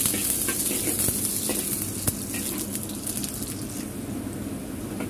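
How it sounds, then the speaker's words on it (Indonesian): Garlic sautéing in cooking oil in a pan for stir-fried water spinach, a steady bright sizzle with faint crackles and one small pop, continuous and close with no talk. "Tumis bawang putihnya terlebih dahulu. Ditumis hingga kuning kecoklatan."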